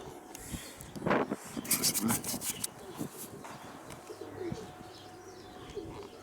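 Pigeons flapping and rustling nearby as they flee a falcon, with a burst of wing beats and faint cooing, scattered chirps and some background scraping.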